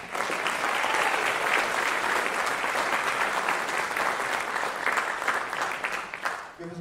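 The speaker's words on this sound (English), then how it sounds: "Give them another round of applause." A college band concert audience applauds steadily for several seconds. The clapping is dense and sustained, then tapers off slightly at the close.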